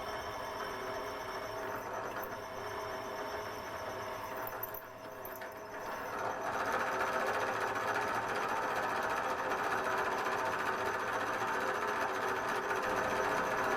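A steady mechanical whir of a drill boring holes into metal dividing-head fraction plates lubricated with white grease, continuous for the whole stretch, briefly easing in the middle before picking back up slightly louder.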